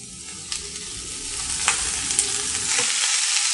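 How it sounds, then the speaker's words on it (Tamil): Sautéing in a kadai before greens go in: a steady hiss of sizzling oil with scraping ladle strokes and a few soft clinks against the pan, close and fairly loud, no voices. "இது ஒரு 30 செகண்ட் வரைக்கும் நல்லா வதக்கிட்டு இப்போ நம்ம கீரையை ஆட் பண்ணிக்கலாம்."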